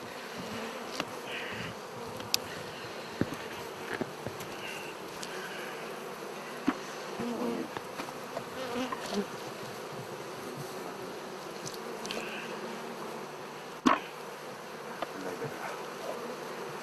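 Honeybees buzz steadily around a smoked hive in a tree, a dense continuous hum with a few sharp nearby clicks and knocks on top.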